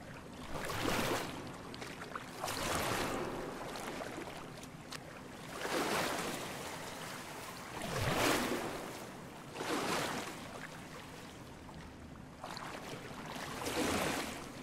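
Water swishes and splashes in repeated surges roughly every two seconds as a character swims through a pool in the video game POOLS, close and fairly loud, with no talking.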